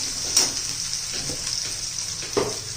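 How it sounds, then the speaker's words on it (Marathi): Onion for tomato chutney sautés in a pan with a steady, fairly loud hiss close by and a couple of brief stirring scrapes, no speech. "कांदा परतून घ्यायचा चांगला कच्चेपणा जाईपर्यंत"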